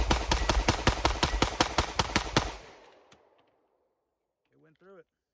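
Shadow Systems pistol fired rapidly with Remington ammunition from a Glock magazine, a fast, even string of about fifteen loud, sharp shots that stops suddenly, followed by a fading echo and a brief voice.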